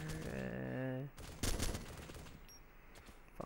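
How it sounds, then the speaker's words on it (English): Gunfire in Arma 2: Operation Arrowhead, a burst of shots after a voice, followed by scattered fainter reports and rumble, with a sharp crack at the end. "We are getting shot at."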